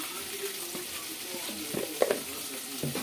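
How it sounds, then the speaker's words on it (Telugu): Okra frying in an uncovered pan with salt and turmeric, a soft continuous sizzle with small scraping and stirring knocks, fairly quiet and close. "మూత వేసుకోకుండానే బెండకాయ వేపుడు అనేది మనం చేసుకోవాలి."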